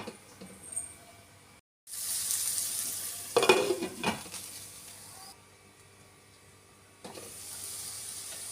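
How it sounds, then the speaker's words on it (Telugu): Ivy gourd (dondakaya) fries in a pan with chili powder. A close hiss starts after a brief silence and peaks in a burst of scraping stirs, then settles into a quieter sizzle with no talking. "ఇలా కలుపుకొని ఒక 2-3 నిమిషాల పాటు ఈ కారాన్ని కూడా మంచిగా దొండకాయలకు పట్టేలా వేయించుకోవాలి."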